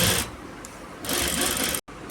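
A sewing machine stitches a kurti seam, its motor whirring loud and close in two bursts with a brief slower stretch between, then a sudden stop before it starts again.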